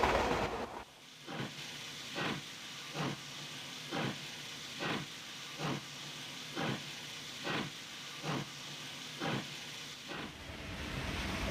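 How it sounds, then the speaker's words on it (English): A steam train rolls along with a steady hiss, rhythmic chuffs repeating about every three-quarters of a second, moderately loud and with no talking. "I dispatch the trains that carry them, sometimes to the right, sometimes to the left."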